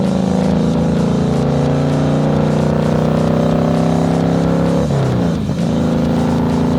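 A 1700cc motorcycle pulls hard on a highway, its engine droning loud and steady with rising pitch, then briefly dips at a gear change before climbing again amid wind rush.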